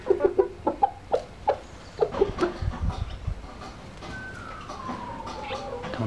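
Hens cluck in short, irregular bursts inside a henhouse nearby, then the sound fades into a steady background hum with a faint rising tone.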